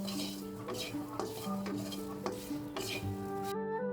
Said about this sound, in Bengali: এইদিকে আমি লবণ দিয়ে ভাজে নিতেছি